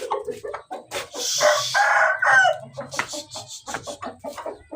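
Hens in a coop after drinking water, clucking and crowing repeatedly and close by, with several birds overlapping in a busy, continuous stream.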